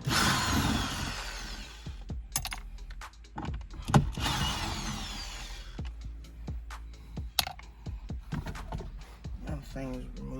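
A power drill whirs in short bursts as it backs screws out of an interior panel near the glove compartment of a second-generation Ford Fusion, with clicks and handling noise between runs and someone talking.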